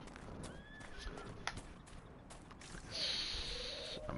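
A horse in the video game Dragon Age Inquisition whinnies loudly near the end, following faint hoof clops and soft clicking sounds, all fairly quiet and close.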